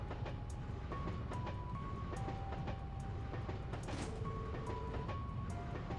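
A train rolls along its rails in the video game Trails to Azure, a constant loud rumble with regular clickety-clack beats and a few light tonal notes over it.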